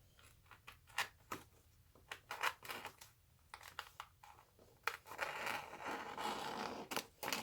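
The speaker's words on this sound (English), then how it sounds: "I go a little bit longer than what it would need to be for the bag itself. Cut it." Scissors cut through a plastic storage bag meant for keeping dry goods, with quiet close snips, crinkles and rustles that build into steadier crackling toward the end.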